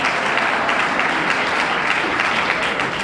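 A studio audience applauds loudly and steadily, a dense wash of many hands clapping without a break for the full few seconds, close and full.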